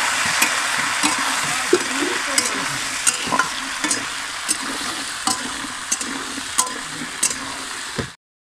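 Vegetables frying with onions in a pan on a clay stove: a steady close hiss of sizzling oil, broken by repeated scraping knocks of stirring throughout.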